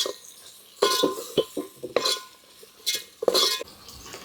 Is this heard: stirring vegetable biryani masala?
yes